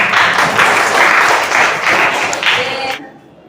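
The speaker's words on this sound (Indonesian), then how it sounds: "tepuk tangan buat Rohman" Steady applause from a classroom audience, dense and fairly loud for about three seconds, then cutting off abruptly into near silence.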